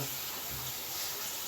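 Water pours steadily into a cooking pot, a continuous close splashing gush that fills the whole moment.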